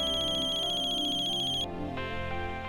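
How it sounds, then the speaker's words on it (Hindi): An electronic phone ringtone sounds for an incoming call, a bright looping melody that plays close and loud, then cuts off partway through and leaves a faint background tone. "ये सामने से फोन कर रहा है"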